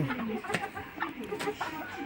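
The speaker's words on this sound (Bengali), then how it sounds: "বাংলাদেশে ফাউনি এবং টাইগার মুরগি অনেকটাই জায়গা করে নিয়েছে" Fayoumi and Tiger breed chickens on a farm in Tangail, Bangladesh, making short, scattered clucks at moderate volume, with a few sharper calls mixed in.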